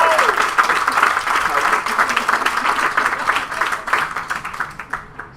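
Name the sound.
wedding guests applauding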